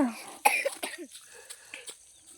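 A few close coughs, one sharp burst followed by several smaller hacking coughs trailing off.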